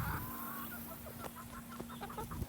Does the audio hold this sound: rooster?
yes